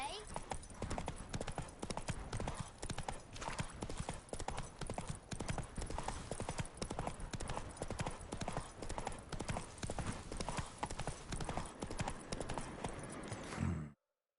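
Horse hooves in The Witcher III strike a brisk, continuous clip-clop at a steady trotting rhythm, loud and close for the whole stretch before cutting off abruptly at the end.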